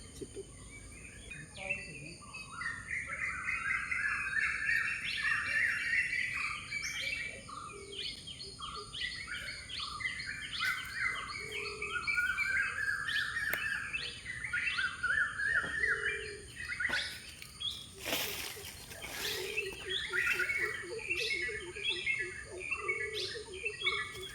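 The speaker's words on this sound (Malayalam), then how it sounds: "മഴ പെയ്തു കഴിഞ്ഞപ്പോൾ കിളികളുടെ സന്തോഷം കണ്ടോ കൂട്ടത്തോടെ കലപില കലപില കലപിലാന്നിങ്ങനെ ചൊ ചലച്ചുകൊണ്ടിരിക്കുകയാണ്" Just after rain, a lively flock of birds chirps and chatters continuously, many overlapping calls close by, with a few louder bursts.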